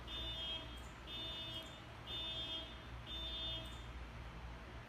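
A background horn or alarm sounds in repeated steady high tones, four evenly spaced pulses about a second apart, moderately loud over a constant low rumble.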